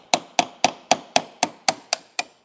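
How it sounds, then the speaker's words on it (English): A hammer taps a 1/8 inch punch into a small hinge hole on a prop door, nine crisp, evenly spaced metallic knocks that ring briefly and decay, close and alone. "This is a 1/8 inch punch. And you just put it right into this little hole here and tap with the hammer."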